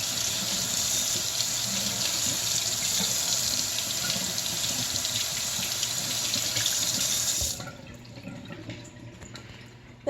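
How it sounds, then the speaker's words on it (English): Tap water runs steadily into a kitchen sink while vegetable layers are rinsed under the stream, a constant splashing rush that cuts off near the end, leaving a quieter room tone. "I try to separate the layers and get the water down in between them."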